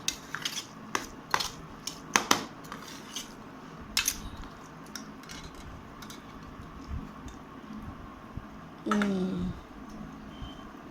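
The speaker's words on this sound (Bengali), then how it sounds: "এক চামচ দিয়েই মেখে দেবো।" A spoon mixes cooked rice in a bowl for a dog's meal, giving scattered clinks and scrapes of metal on dishware, louder in a cluster early on, with a brief vocal sound near the end.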